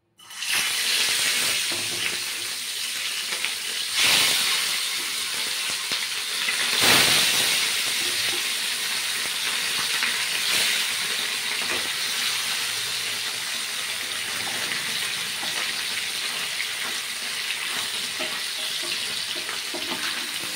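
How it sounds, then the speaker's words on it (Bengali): Steady, loud sizzling of tilapia fish frying in hot oil, with a constant crackling hiss that lasts throughout and swells briefly a couple of times. "তেলটা গরম হয়ে গেছে, এবারে মাছ ভাজাগুলো করে নেব।"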